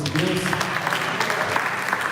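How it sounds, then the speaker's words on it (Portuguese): Church congregation clapping together in praise, a steady moderate wash of applause from many hands in a worship hall, fairly even throughout. "Você pode dar uma salva de palmas a esse Deus"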